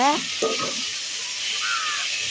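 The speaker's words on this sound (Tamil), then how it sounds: "தக்காளியை சேர்த்து நல்லா கிளறி விட்டுக்கோங்க" Tomatoes and onions frying in a pan as a chicken curry base starts, with a brief stirring scrape near the start over a steady, close sizzle.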